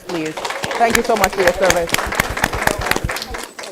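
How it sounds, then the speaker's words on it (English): An audience gives scattered applause, with individual claps popping under someone speaking close and loud over them. "Could you give them a round of applause,"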